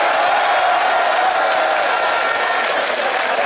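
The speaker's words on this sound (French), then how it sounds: "Applaudissez-moi Saint-Jean." A crowd at a strike rally applauds steadily and loudly, dense clapping filling the whole stretch without a break and no speech over it.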